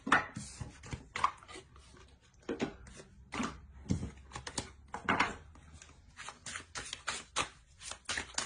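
Tarot cards are shuffled and drawn close up, giving soft rapid flicks and light slaps of card stock. The sound comes in uneven bursts and is fairly quiet, with no talking.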